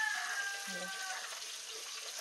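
Food fries in a pan, a soft, steady sizzle with a faint hiss running the whole moment, fairly quiet and close, with a brief low murmur of voice partway through.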